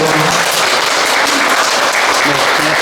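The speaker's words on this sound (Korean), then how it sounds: "감사의 큰 박수 부탁드립니다" An audience at a Buddhist college special lecture at Beopwoongsa temple in Wonju breaks into dense, sustained applause, with steady loud clapping from many hands throughout and no talk.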